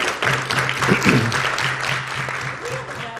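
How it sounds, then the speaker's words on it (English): A crowd at a city council committee meeting claps steadily for a few seconds, dense and sustained, with a faint low hum underneath before it cuts off. "Nice round of applause for the new deputy."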